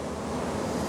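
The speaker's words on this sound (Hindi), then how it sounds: "आप इस वक्त ठंडी ठंडी हवा चल रही है" Cool wind blowing steadily after rain, a continuous broadband rush with buffeting on the microphone and no voices.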